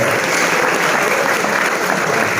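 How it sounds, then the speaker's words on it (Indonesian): A crowd at a Ramadan sermon held at an Islamic boarding school in Garut, Indonesia, applauds with loud, steady, continuous clapping that fills the whole moment. "Tepuk tangan buat Tarogong Kidul."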